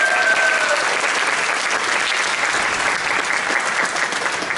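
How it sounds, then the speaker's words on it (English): A high school jazz ensemble concert audience gives a loud, dense round of applause, sustained evenly from start to finish with a brief faint tone near the beginning. "let's give a round of applause for Mr. Steiner"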